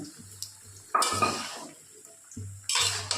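An onion, garlic, ginger and cumin paste stirred and fried in a pan for a taro curry, with close metal spoon scrapes and clinks against the pan in short bursts over a faint sizzle.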